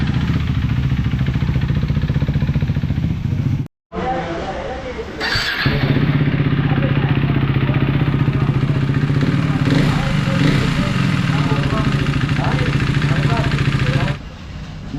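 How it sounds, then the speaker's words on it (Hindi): A motorcycle engine runs steadily on a workshop trial after servicing, a loud continuous drone with one brief cutout, while people talk over it. "एंड देन बप्पा आ जाएगा बाइक का ट्रायल पे,"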